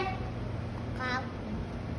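A young girl imitates a cat's meow with one short, mewing cry over a steady background hum.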